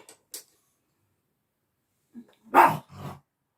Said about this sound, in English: sorry if you hear my dog, he's on the bed and barking at people